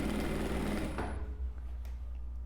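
A sewing machine stitches a fabric scrap in reverse as a test, giving a loud, fast mechanical whir for about a second before it stops, leaving only quiet room noise.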